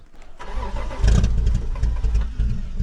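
A 1988 Toyota Supra MK3 with a straight-through full exhaust, abandoned for years, catches and fires up after cranking, then settles into a loud, rumbling, slightly uneven idle close by.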